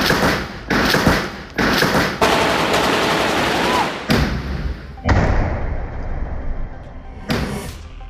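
Bursts of gunfire and heavy blasts during a fighting attack on Israeli forces in Gaza, loud repeated thuds and rapid rattles with short gaps between them.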